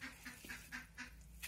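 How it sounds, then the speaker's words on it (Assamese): Hungry ducks waiting for their feed give a run of rhythmic, nasal quacks, about six calls spaced evenly apart. They sound faint and a little distant, with no talking. "এতিয়া মই হাঁহকেইটাক অলপ খাদ্য দি থৈ আহোঁ"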